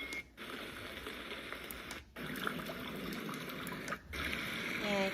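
Trickling stream water played on a Zealot Z6 white noise machine with faint bird chirps mixed in, a steady close wash of sound broken by short dropouts, no voices.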